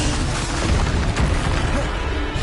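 A Bombarda blasting spell erupts in Hogwarts Legacy, a loud, dense explosive rumble with booming low end that fills the whole moment, accompanied by continuous crackling battle noise.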